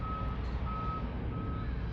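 A cargo truck backing up near a ship sounds a steady, repeating high backup beep at regular intervals over a low engine rumble, no talk.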